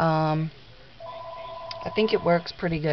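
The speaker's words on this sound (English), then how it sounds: "And that's the phone." A telephone rings with a short electronic tone at the start, then a tonal ringing pattern plays while someone talks over it.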